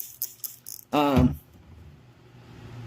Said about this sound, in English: Oh, the spray bottle is killing me.